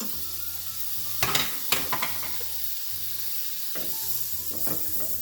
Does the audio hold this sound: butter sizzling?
yes